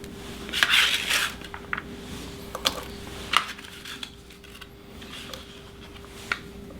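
A knife cuts half a small onion on a cutting board in a kitchen, making irregular close knocks and light clatters, some sharper taps, separated by brief pauses with no talking.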